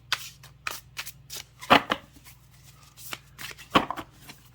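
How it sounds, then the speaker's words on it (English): Tarot cards being riffle-shuffled by hand, smooth stiff cards sliding into each other in a series of soft quick riffles and sharper flutters, heard close and alone. "You know, this is how I shuffle. Oh, listen to that."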